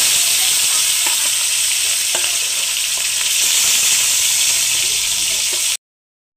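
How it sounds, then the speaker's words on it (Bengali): Chanda fish frying in oil in a wok make a strong, continuous sizzle with occasional scraping stirs layered over it, until the sound cuts off abruptly near the end. "এই মাছগুলো একই করে ভেজে নেবো আমি,"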